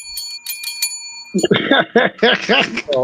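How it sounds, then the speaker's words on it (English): A small bell, like a bicycle bell, rings in several quick bright dings at the start, then people laugh loudly in bursts afterward. "I ring the bell whenever something is said that was said during the adult store days"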